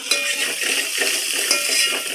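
Onions sizzle in hot oil in a pan during tempering, a loud, close, continuous hissing crackle with faint utensil clinks.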